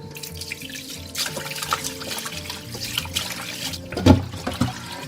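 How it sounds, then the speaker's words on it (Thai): Tap water running and splashing as salted tilapia pieces are rinsed in a sink for a Thai sour curry with pineapple, close and fairly soft, with a brief louder splash near the end. "เสร็จแล้วเราก็ล้างค่ะ"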